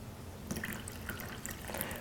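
Kangen 9.5 alkaline water is poured and mixed, giving faint trickling and scattered drips and splashes, soft and close, without talk.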